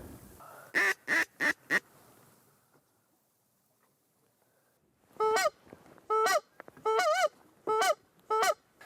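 Geese honk loudly nearby during a duck hunt at Lake of the Woods, Minnesota, a quick burst of four calls, then a pause and a second run of repeated honks.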